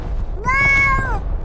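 Cat meowing sound from a player in the video game Rust: a single clear, drawn-out meow, loud and close over a low rumbling game background.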